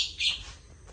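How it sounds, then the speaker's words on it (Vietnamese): In a leafy garden in Cai Lay, Tien Giang, a bird gives two quick, bright chirps close by, then falls quiet against soft outdoor background hum. "ở đây có con à, con chim nè"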